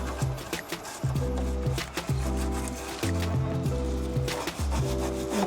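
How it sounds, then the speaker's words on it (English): Scrubbing paint off a Lane Acclaim wooden table produces close, loud rhythmic rubbing strokes, about five back-and-forth passes with a raspy, squeaking texture and no talking. "Honestly, I barely need to scrub."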